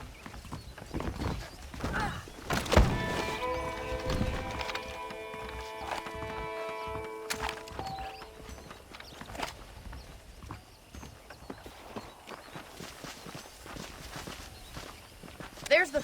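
Horse hooves clip-clopping in the Red Dead Redemption video game, a steady rhythmic clopping of a walking horse throughout, with a whinny early on and a voice speaking over it.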